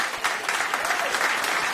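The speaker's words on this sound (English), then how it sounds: "Give her a round of applause." Brief, steady applause from an audience at a public safety awards celebration as a woman is called up for a standing ovation, clapping continuous and fairly close throughout.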